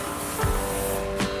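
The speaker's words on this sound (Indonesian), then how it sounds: "Jadi ini kita baru semprot-semprot." A sprayer mists grapevines in an Indonesian vineyard, giving a steady broadband hiss that runs through the whole short stretch with a couple of brief louder surges.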